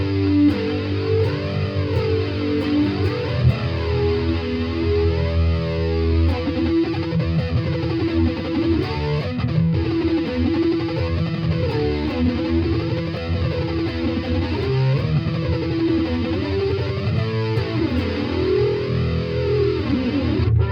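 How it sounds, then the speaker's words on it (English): A heavily distorted electric guitar through a Yamaha THR10 amp at very high gain drones through its flanger, a sweeping jet-like whoosh rising and falling steadily and loudly throughout, with no talking. "This is what the flanger sounds like on a stupidly high gain setting."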